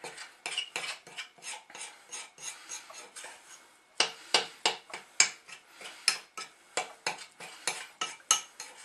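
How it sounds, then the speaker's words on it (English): A spoon stirs chocolate cookie mix in a bowl, a steady run of close, scraping knocks against the bowl with no talk. "Give it a good stir."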